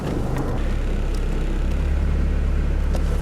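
A 1997–2001 car with newly replaced motor mounts idles and reverses on a test drive, a steady low engine rumble close by, smooth and continuous with faint background noise.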